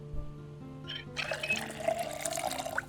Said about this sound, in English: Fill the water bottle first.